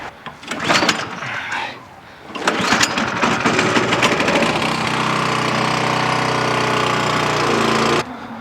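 A snow blower engine with a leaking carburetor bowl gasket starts up after some clattering handling noises, then settles into a loud, steady running drone that continues for several seconds before cutting off abruptly.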